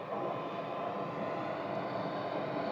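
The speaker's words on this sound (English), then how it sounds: "we had a Beechcraft land" A Beechcraft aircraft landing at Scottsdale, its engine giving a steady, broad roar that holds even and fairly loud throughout with no talk.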